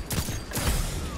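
Bursts of loud, sharp gunfire from a hand cannon in a video game crack in quick succession, close and dense, with no talking.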